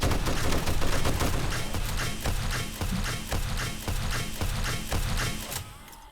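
An automated turret in the 7 Days to Die video game rips off a rapid, steady string of gunshots at a feral zombie, loud and close, the bursts continuing for several seconds before easing off at the end.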